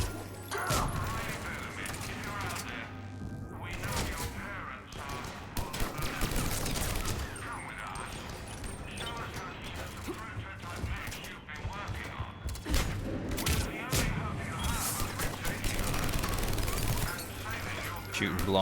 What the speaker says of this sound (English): Shooting blindly.